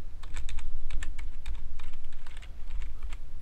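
Someone types a name on a computer keyboard, producing a close, brisk patter of key clicks in quick clusters with a short pause near the middle, loud and with nobody speaking.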